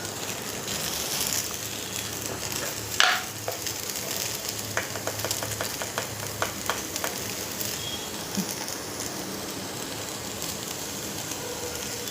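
Okra sautéing in a pan, a continuous dense sizzle with intermittent stirring scrapes and a run of quick clicking taps partway through.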